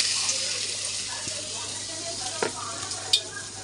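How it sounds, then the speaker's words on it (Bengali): A flour-coated mixture with turmeric and green chili sizzles steadily in a pan, a soft hiss with a few stirring knocks and clinks, quiet and close. "চলো এখন একটু ভেজে নিই।"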